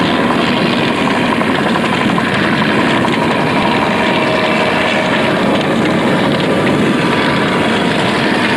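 A helicopter drips burning fuel during a controlled burn, a steady loud rotor and engine roar holding constant throughout with a broad rushing hiss, no voices.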